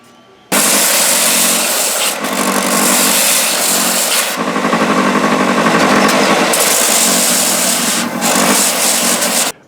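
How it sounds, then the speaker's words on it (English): A power sander grinds against the edge of a cast aluminum piece, a loud, continuous harsh rasp lasting several seconds with brief dips in pressure, close by with no talking. "The material comes off really quickly, so work slow on that sander."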